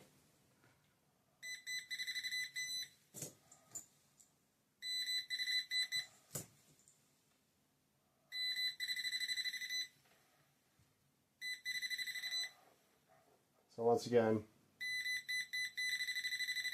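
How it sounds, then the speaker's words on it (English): A Dmyond handheld pinpointer metal detector beeps in short repeated bursts of steady tone as it nears metal, with pauses between, and someone speaks briefly over it. "as you get closer, it starts beeping"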